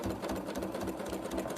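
A sewing machine stitches at a steady, fast rhythm, its motor humming continuously with an even mechanical chatter, close by and with no talk.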